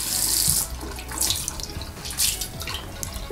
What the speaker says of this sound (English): You can see how all the water just slides off so easily